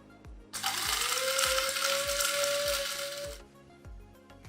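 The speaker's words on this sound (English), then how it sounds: "grind the bulk material into a coarse powder using a mixer grinder" A mixer grinder grinding bulk material into a coarse powder, one loud high-pitched motor whine lasting about three seconds that starts and stops abruptly, with rhythmic mechanical ticks underneath.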